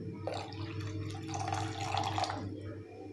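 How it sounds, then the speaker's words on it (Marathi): Hot water is poured into a thick egg curry in a pan, a short soft splashing stream with liquid gurgling that builds briefly and then fades out. "अजून थोडंसं गरम पाणी याच्यामध्ये ॲड करत आहे।"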